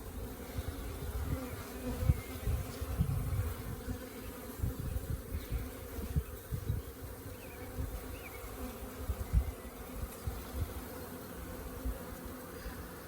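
Honeybees buzz around an open hive during an inspection while saving a queen and making a colony, a close, continuous hum that swells and dips with scattered low bumps and handling noises.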